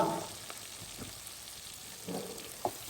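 Turmeric, chilli powder and cumin frying briefly in a pan for a bottle gourd sabzi, a soft close sizzle with a couple of louder stirring bursts, faint and short, no talking.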